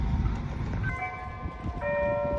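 Outdoor clock chimes ringing in a windy setting, several sustained bell tones starting in turn and overlapping, moderately distant and fairly quiet over a low rumble of wind.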